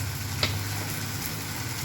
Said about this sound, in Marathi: मी अशा प्रकारे कांदा परतून घेत आहे.